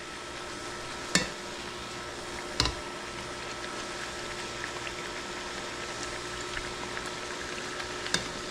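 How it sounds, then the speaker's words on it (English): A corn tortilla frying in hot oil gives a steady, dense bubbling sizzle, close and even throughout, with a few sharp pops standing out. "We want to see some kind of immediate bubbling and puffing as soon as we get that tortilla in the oil."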